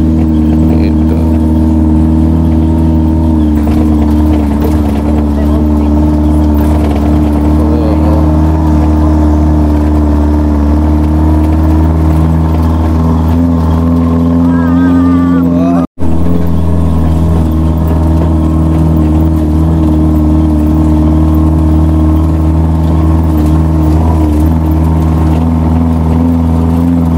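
A jeep engine drones loudly and steadily as it climbs a seven-kilometre mountain road up Mount Telomoyo in Central Java, a continuous close engine roar throughout.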